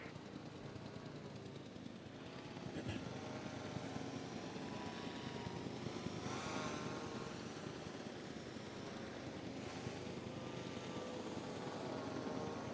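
Helicopter airlift picking up an asset in the park-building game Jurassic World Evolution 2: a steady, muffled rotor and engine drone holds at low volume throughout, with slight swells but no clear start or stop.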